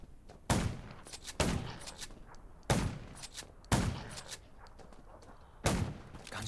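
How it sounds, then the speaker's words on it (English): Gunshots in the zombie survival video game Undawn: five sharp, loud reports spaced irregularly across the clip, each followed by a short decaying tail, with no talk. "Gunshots will attract more zombies."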